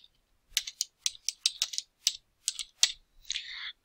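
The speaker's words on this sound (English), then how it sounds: "So you just type that in" Text is tapped out on a computer keyboard in a quiet room, a dozen or so crisp close-up keystrokes in an uneven rhythm ending with a longer rattling press.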